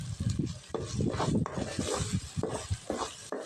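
Spoon stirring chilli powder and biryani masala through food in a pan at home, a steady scraping shuffle with soft sizzle underneath, close and continuous for the whole stretch.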